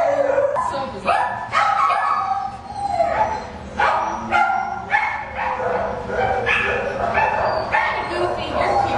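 Several dogs barking, yipping and howling at an animal shelter, loud and close with overlapping repeated barks, while people talk.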